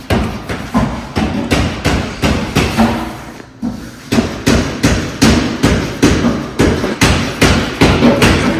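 Loud, steady hammer blows ring out in a fast repeating rhythm during disassembly of a Commando vehicle's body from its frame, with a short pause midway before the striking resumes.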